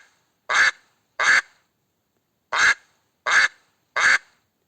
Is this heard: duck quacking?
yes